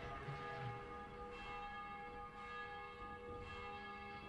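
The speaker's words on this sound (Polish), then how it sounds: "Dzwony dzwonią." Church bells ring in the video game Dying Light, with sustained bell tones sounding faint and distant, overlapping in slow succession without any talk.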